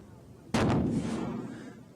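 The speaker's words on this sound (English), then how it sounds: "They had concussive injuries as a result of that high explosive going off underneath their police car." A high-explosive firework going off beneath a parked police car, one abrupt loud boom with a rumbling tail that decays slowly.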